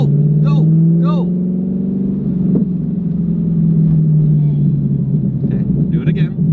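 A 400-horsepower C5 Corvette Z06 runs at full throttle, its deep engine drone loud and continuous from inside the car while people talk and shout over it.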